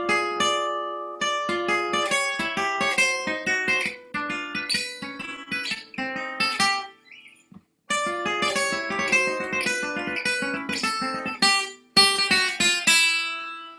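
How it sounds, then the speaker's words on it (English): Electric guitar playing sweep-picked arpeggios, one upstroke followed by three downstrokes, in quick clean repeating note patterns heard close, with a brief pause partway through and no talking. "And that's called sweep picking. You want to sweep the string."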